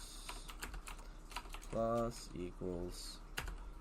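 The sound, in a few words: typing on a computer keyboard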